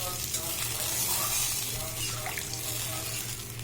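Fish frying in hot oil in a pan makes a loud, continuous sizzle with a broad hissing, bubbling wash and a low hum underneath, close by, with no distinct speech.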